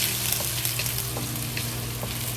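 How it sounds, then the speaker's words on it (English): Ginger, garlic, scallion and a star anise fry slowly in oil in a wok, giving a steady, close sizzle with light crackles throughout. "And slowly fry until the ginger, scallion, and garlic release good smell."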